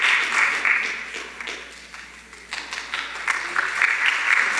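At a youth showcase, an audience claps in a sustained round of applause, steady and fairly loud, with some rise and fall in intensity.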